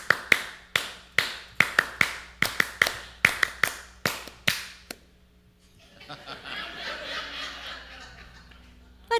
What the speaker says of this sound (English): the first thing I'm going to do is teach you the garden camp clap.